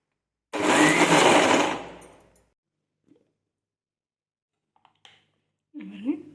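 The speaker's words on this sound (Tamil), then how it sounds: "இதை நம்ம இப்போது நல்லா ஃபைனாக அரைச்சி எடுத்துக்கலாம் மிக்சி ஜாருக்கு இப்போ மாற்றிடலாம்" A mixer grinder jar blends cooked fruit into a fine paste for homemade jam in one loud, close whir lasting about two seconds before it spins down. A few faint clicks follow, then a brief voice.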